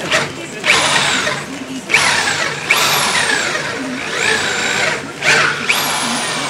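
A power tool sharpening a blade comes in four loud, rising whining bursts with short pauses between them, close by, while a voice speaks over the noise.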